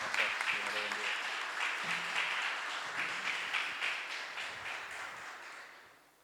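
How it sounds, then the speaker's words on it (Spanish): A church congregation applauds the Lord in a steady round of clapping, a little distant, with faint voices mixed in, before the sound fades out at the end. "Le damos un aplauso al Señor"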